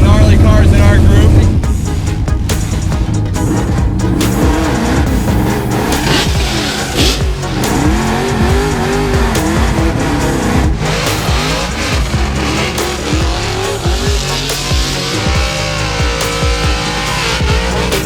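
An FRS race car with a GT86-type motor runs hard up a fast, tight hill climb, its engine droning loud and steady throughout with squealing tires, while a voice talks over it.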